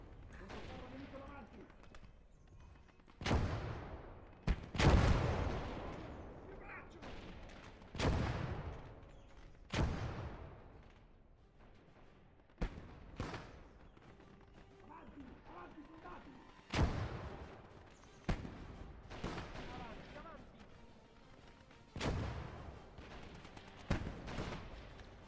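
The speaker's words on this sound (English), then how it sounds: "That mortar is just killing me here." Mortar and artillery fire in the war video game Gates of Hell: repeated heavy booming blasts arrive every few seconds, some close and loud, others duller, over a steady battlefield background.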